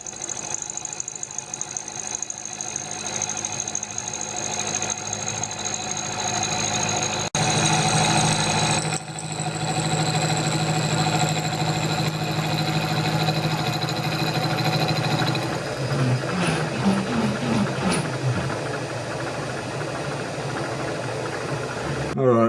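A milling machine with an end mill cuts a part for armoured DRO cable repair in a workshop, a steady mechanical whine and hum running throughout, with a rougher grinding texture toward the end.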